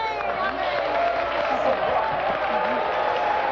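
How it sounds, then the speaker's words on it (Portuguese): Audience at a religious and political debate applauding and cheering, a dense steady wash of clapping and crowd noise at moderate loudness, mixed with voices throughout. "essas manifestações de aplauso, de vai a tudo, vocês têm que controlar um pouco"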